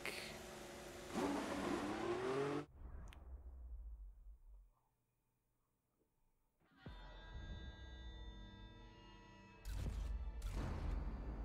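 A Mercedes Formula 1 car in F1 2014 on the Italian circuit, its engine revving loud and high, dropping out briefly to near silence, then returning in strong pitched bursts with no talk.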